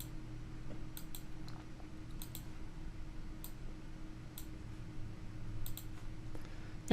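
Several quiet, crisp mouse clicks tick irregularly over a steady low hum as checkboxes are ticked on a web page, with no talking.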